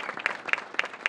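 Audience applause at a Governor Hochul housing celebration, a dense wash of many hands clapping with rhythmic surges, steady and moderately loud, with no talk over it.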